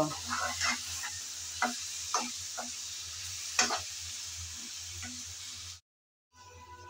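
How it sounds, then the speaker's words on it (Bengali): Hog plum pickle being stirred and fried in a pan: a steady sizzle with repeated scraping strokes of the stirring utensil, fairly close, before a brief cut to silence. "এখন একটু নেড়ে চেড়ে ভালো করে মিশিয়ে নেব"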